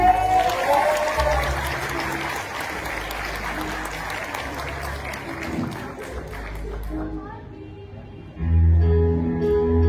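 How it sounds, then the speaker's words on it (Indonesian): Audience applause, a broad wash of crowd clapping under speech and background music, fades out near the end as a louder music passage takes over. "Woi, penonton! Aduh, mana deh tepuk tangannya deh?"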